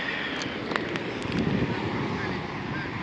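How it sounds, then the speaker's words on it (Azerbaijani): Wind rumbling and buffeting the microphone at an outdoor car market in Göyçay, a steady low roar throughout with a few faint higher tones, and a voice talking over it. "Biraz hava küləklidir."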